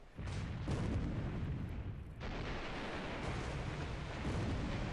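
Sixteen-inch naval guns of the battleship Mutsu firing in War in the Pacific AE: loud, sustained, roaring blasts filling the whole clip, with a brief dip between two heavy rumbling bursts.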